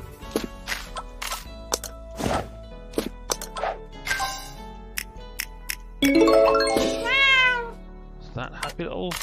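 A cartoonish cat meows in the Dr. Cares Pet Rescue 911 video game among chimes, dings and small plops, with a person talking in between.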